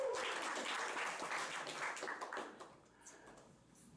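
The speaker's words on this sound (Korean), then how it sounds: "박수 한번 쳐줄까요?" Young adult congregation at a church worship service claps together, a loud burst of applause that thins and fades out over a few seconds into quieter scattered claps.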